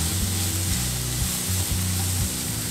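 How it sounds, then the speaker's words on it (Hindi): Onions salted to sweat down fry in a pan for egg curry, a loud, steady sizzle that hisses without a break, with a low hum underneath and nobody talking. "यहाँ पर हमें अनियंस को है ना गोल्डन ब्राउन से थोड़ा ज़्यादा करना है"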